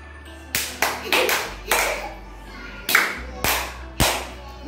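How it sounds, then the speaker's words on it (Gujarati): Young children in a classroom clap for classmates who won a game. About eight sharp, loud claps come at an uneven pace, with faint murmuring between them. "તો તમે બંને એના માટે તાળી પાડશો."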